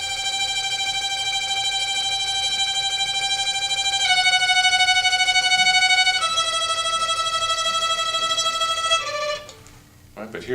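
Violin playing the second violin part of Greensleeves, sustained bowed notes with shifting pitches in a slow, even line, played alone and close.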